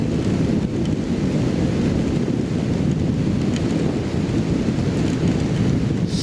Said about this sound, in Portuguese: Tá chovendo bastante mesmo, pessoal.